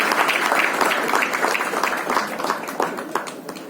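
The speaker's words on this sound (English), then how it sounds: "may I request for another applause for the Honorable Minister" An audience at a Bharat NCAP launch event applauds the Honorable Minister with brisk, crowded clapping, loud and continuous, tapering slightly toward the end.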